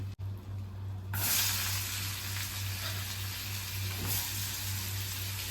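Cumin seeds dropped into hot oil break into a loud, steady sizzle after a brief clatter, the crackling hiss continuing evenly with no voices.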